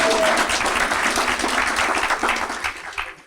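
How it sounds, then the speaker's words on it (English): Loud, close applause fills an awards ceremony hall for educators, a thick continuous burst of many hands clapping that begins to thin out near the end. "Let's give her a round of applause."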